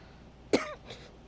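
A single sharp cough bursts out, followed by a fainter throat-clearing rasp, from someone out of breath who has taken cough medicine; close and alone in a quiet room.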